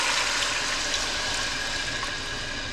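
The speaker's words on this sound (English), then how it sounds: "Now you want to add in your water." Water pours steadily and loudly into a pot, a continuous broadband splashing rush with no pauses and no talking.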